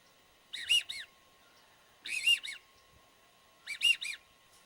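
A duck call is whistled to imitate a widgeon in three separate bursts, each a short low-high-low whistle. The bursts are spaced about a second apart and sound clear against a quiet background.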